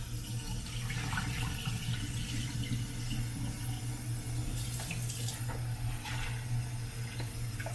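Tap water runs steadily into a kitchen sink while rice is washed, a continuous close splashing hiss with faint clinks and no talking.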